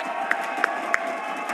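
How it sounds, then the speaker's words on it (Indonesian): Esports arena crowd at a Mobile Legends playoff match between RRQ and EVOS, clapping and cheering in a steady, loud wash with a few sharp claps standing out above the roar. "minta tepuk tangannya dong."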